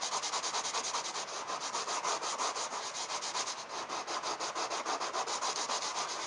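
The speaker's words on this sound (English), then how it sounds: "Just get a piece of sandpaper. I got this 100 grit foam pad." A 100 grit foam sandpaper pad scrubs back and forth over old adhesive, a loud, close, continuous rasping with a steady rhythm of strokes throughout and no voices.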